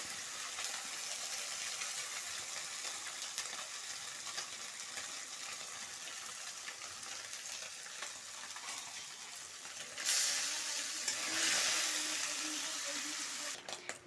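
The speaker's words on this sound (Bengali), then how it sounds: "মাছগুলো আমার লাল লাল করে ভেজে নিয়েছি" Fish sizzles steadily in hot oil in a wok for a home-style Bengali fish curry, a continuous frying hiss that swells louder near the end, with no talking over it.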